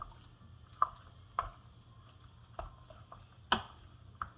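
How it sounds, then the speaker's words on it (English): Soft, sparse clicks and taps of a spoon working through tourtiere meat filling mixed with cooked potatoes in a bowl, a handful of irregular strokes over a quiet kitchen background. "Mix it up."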